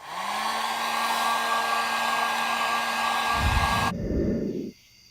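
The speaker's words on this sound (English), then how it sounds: "I'll take a hair dryer and blow on it with a hair dryer or a heat gun" A hair dryer, used to cure fiberglass resin on a boat bow panel, whirs with a steady high-pitched whine for about four seconds, then winds down with a low rumble and cuts off.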